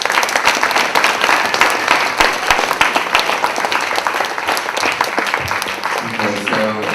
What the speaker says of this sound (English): Let's have a round of applause for all of our speakers.